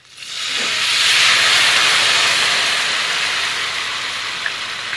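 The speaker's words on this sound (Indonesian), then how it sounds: "Pada saat menuangkan larutan tepungnya itu sedikit demi sedikit ya, dan dari jarak yang jauh agar nanti hasilnya bagus," Flour batter for kremes pours into hot frying oil around chicken wings, setting off a loud, steady hiss and sizzle that swells within half a second and holds, easing slightly toward the end.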